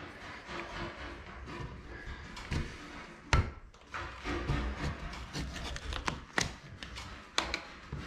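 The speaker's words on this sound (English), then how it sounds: "we can take our joint knife or our scraper, and you can see there where it's bubbled" A joint knife scrapes and picks at bubbled, poorly adhered joint tape on a ceiling, producing close, uneven scratching and rubbing with several sharp taps and knocks.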